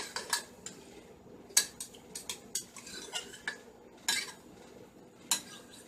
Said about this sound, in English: we can take our knife that we use to get it out and cut it up and just stir it up